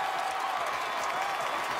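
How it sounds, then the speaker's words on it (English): A stadium crowd roars steadily after a Texas A&M touchdown, a dense, continuous wash of cheering and applause filling the whole moment at even loudness. "Crowd on their feet."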